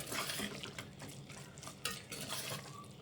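Masala in oil is sautéed and stirred in a pan, with close, repeated scraping and clinking of the spoon against metal over a faint sizzle, and no talk.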